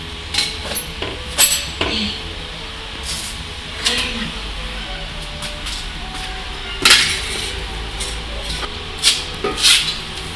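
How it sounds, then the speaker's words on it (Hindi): A wall-hung commode seat is fitted into place with scattered knocks, clinks and rubbing of hard plastic and ceramic parts, irregular and close, with quieter handling in between. "ये सीट अब हम लगा रहे हैं पीछे से बराबर चिपका कर"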